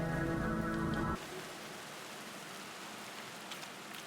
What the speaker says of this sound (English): So it's raining and shit.